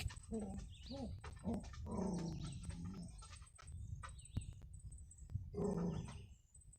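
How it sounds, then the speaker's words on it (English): A dog whimpers and makes short vocal sounds indoors, mixed with a person talking over it. The dog noises come in brief bursts at moderate loudness. "The dog."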